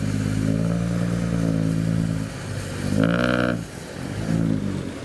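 A new SANY SY215C excavator digs hard, compacted soil while excavating a pond. Its engine drones loudly and steadily up close, then surges and strains briefly midway before settling back to a heavy working hum.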